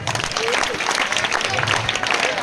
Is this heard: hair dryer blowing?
no